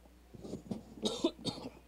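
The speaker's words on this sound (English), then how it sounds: "I got a little bit of cough going on from the chill" A few close, raspy coughs in quick succession from a football commentator, sounding alone with no talking.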